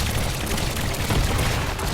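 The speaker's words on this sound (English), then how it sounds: "It has dual miniguns on the front, which do a lot of damage" Dual front-mounted miniguns on a heavy destruction vehicle in the Trailmakers building game fire in a dense, continuous roar of rapid shots, loud and steady across the whole burst with no talk over it.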